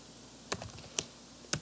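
Three separate keystrokes land on a computer keyboard while entering commands, soft close clicks spaced unevenly over a quiet room hum.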